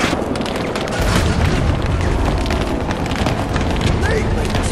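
A dense, continuous rumble of booming explosions in Battlefield 2042, loud and sustained with crackling texture throughout, like heavy blasts in a chaotic battle scene.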